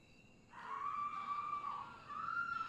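A single sustained scream rises from a movie soundtrack, holding for over a second before a second shrill cry follows, moderately loud against a low rumble.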